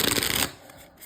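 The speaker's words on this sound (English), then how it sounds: "I'll do another shuffle here" A deck of tarot cards is riffled in a quick, close, crisp burst of fluttering snaps, then stops, leaving a quiet room.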